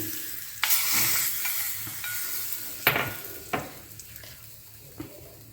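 Oil tempering with mustard seeds, urad dal, asafoetida and curry leaves sizzles and hisses in a pan for a chutney, with several sharp crackling bursts and spoon scrapes over a steady fry.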